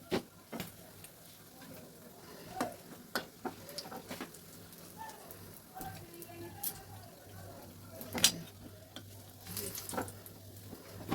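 Egg chops frying in a pan, with a soft sizzle under a run of irregular clicks and scrapes from a stirring utensil, fairly quiet and close.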